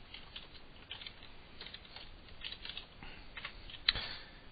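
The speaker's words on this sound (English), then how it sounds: "Hit enter, and now the record is stored." Fingers tap a computer keyboard in short irregular bursts of quiet clicks, close and soft, ending with one sharper keystroke.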